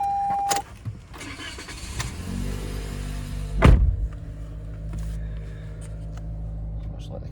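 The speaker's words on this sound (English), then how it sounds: "I'll start the car up." A 2018 Toyota C-HR engine cranking and catching close by, a brief whirring start surge rising to a peak, then settling into a steady low idle hum, with faint interior clicks before it.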